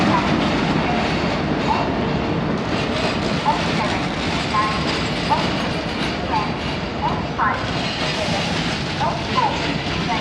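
A MEMU passenger train on the Ernakulam to Kottayam run rumbles steadily from inside the carriage, with a continuous loud rolling roar and faint rhythmic clicks of the wheels throughout.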